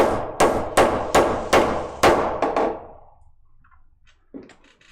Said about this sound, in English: I whacked it with a hammer, and it has retained its properties